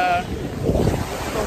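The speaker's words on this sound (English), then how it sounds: "We're at the beach right now." Wind blows across the mic at a Punta Cana beach at dusk, with surf washing in underneath as a broad rushing noise. A short tonal sound is heard at the start, and a voice may be present.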